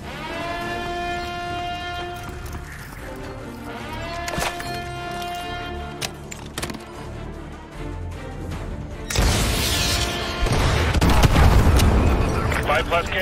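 Missile strike explosions in Call of Duty Modern Warfare 2 Remastered, heavy booms and crashes rolling under a sustained tonal drone, building to a loud, dense blast near the end.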